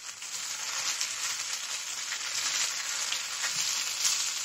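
Raw banana slices frying and being stirred in a pan with curry leaves in a food court, a steady close sizzle with crackling scrapes throughout, no voices.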